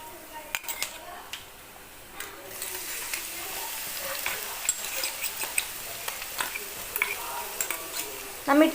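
Ginger, green chili and garlic stirred in hot coconut oil for kada roast chicken, with a bright sizzle and clinking, scraping strokes of a spoon against the pan, close up and no talk over it.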